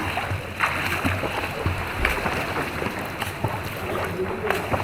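Children swimming and splashing in the hotel swimming pool at Sea Crown, Kuakata, a continuous close wash of churning water and scattered splashes, with voices talking and calling over it.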